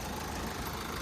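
A 2014 Hyundai Santa Fe's 2.2-litre CRDi turbo diesel engine idles in a low, even rumble, steady and fairly quiet with no voices over it.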